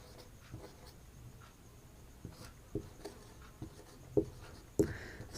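A pen scratches across paper while a Class 10 geometry theorem proof is written out, with steady faint strokes punctuated by sharper taps as words and symbols are finished.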